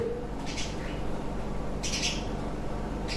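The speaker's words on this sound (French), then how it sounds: "Les oiseaux quoi." Birds call outdoors around a home, short bright chirps and squawks in scattered bursts, fairly distant over a steady background murmur.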